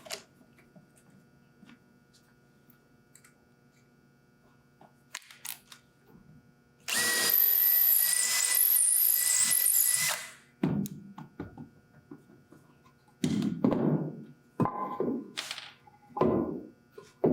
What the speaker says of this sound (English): So I went and gotten the 3/16 drill bit.